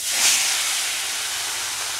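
Puti fish rubbed with salt and turmeric slides into hot oil, setting off a loud, steady sizzling hiss that swells at first and then holds at an even level.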